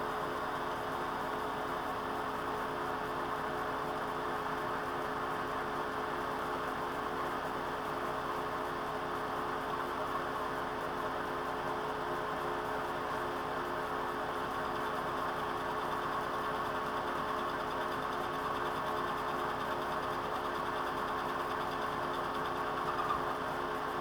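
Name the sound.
metal lathe facing a part's end face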